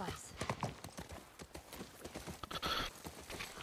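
A horse's hooves clip-clop in a steady walking rhythm in The Last of Us Part I, fairly quiet, with faint voices and ambient sound around them.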